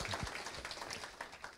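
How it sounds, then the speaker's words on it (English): Faint scattered applause from a crowd at a raceway hall of fame induction, a brief patter of hands clapping at a distance. "Let's give her a round of applause here to accept."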